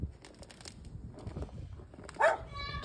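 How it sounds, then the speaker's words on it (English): A single sharp dog bark rings out near the end over quiet background noise, with faint scuffling beforehand. "Yeah, they barking at you."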